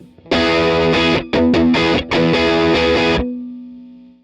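Heavily distorted electric guitar chords through a Free The Tone String Slinger SS-1V pedal with gain cranked, loud and saturated, a few choppy strums with brief gaps, ending in a sustained ringing chord that fades out.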